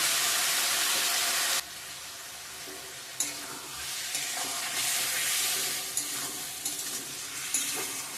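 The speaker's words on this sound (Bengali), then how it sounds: "সব মশলা দিয়ে দিচ্ছি একটু জল দিয়ে কষিয়ে নিব ভালো করে" Spice paste frying with a little water for kosha in a pan, a loud steam hiss at first that settles into a steady sizzle with scraping stirs.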